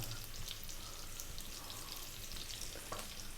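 Onions and garlic frying in a pan over medium heat, a steady close sizzle throughout with light crackles, no voices.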